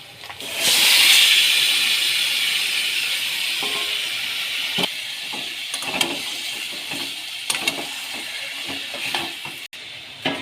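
Spice-coated mutton hits hot fried onions and bursts into a loud sizzling hiss that gradually settles into steady frying, with scraping stirs and utensil knocks near the end.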